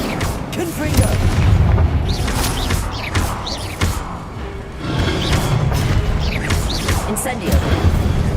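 Incendio and Confringo spells cast in Hogwarts Legacy, giving repeated bursts and booming impacts with crackling blasts, loud and close, while a voice speaks over the action.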